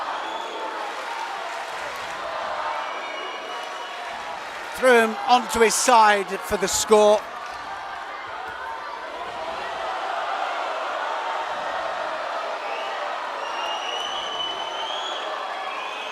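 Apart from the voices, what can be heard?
judo crowd cheering and applauding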